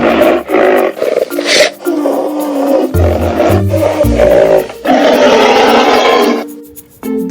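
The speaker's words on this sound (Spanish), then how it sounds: "Rinoceronte." A rhinoceros gives loud, rough roaring and grunting calls in several long bursts, close and strong, with no speech.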